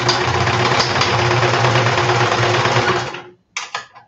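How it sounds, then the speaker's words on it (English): A sewing machine runs fast and close, stitching across several layers of fabric in a steady rattling drone for about three seconds, then stops briefly and restarts with a short burst. "I'm going to stitch across this and then create the taper by stitching into those additional panels."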